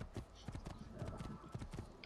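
Horse hooves clip-clop in a steady trotting rhythm from a horse named Philip in the video game Assassin's Creed 2, faint and continuous under busy background game sound.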